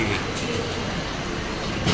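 A train halts at a small city station near T. Nagar, a steady low rumble and hiss holding evenly, with a slight rise at the very end.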